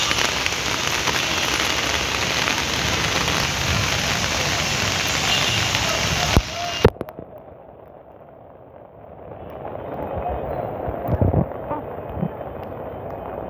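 Heavy rain pours steadily over a cattle market at Dholaikhal in Old Dhaka, loud and dense for about six seconds, then cuts abruptly to a much quieter, muffled ambience with a few faint knocks.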